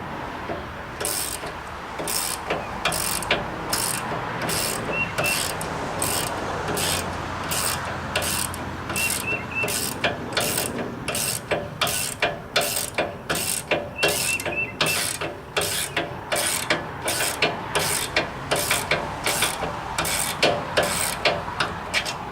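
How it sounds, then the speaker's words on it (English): Ratcheting gear wrench loosening a bolt on a Massey Ferguson Model 25 tractor during gearbox removal, a fast run of sharp, evenly spaced clicks continuing steadily and close up for the whole stretch, with no talk. "Then we need to loosen up this this bolt here. And this is where these gear wrenches really come in handy."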